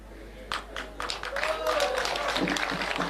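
A crowd at a political rally breaks into scattered clapping that builds into fuller applause honouring SK Macharia, heard from a moderate distance with voices and shouts mixed in.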